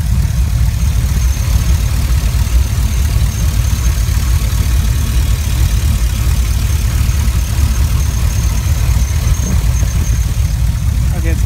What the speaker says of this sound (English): I think I can hear it misfiring pretty bad.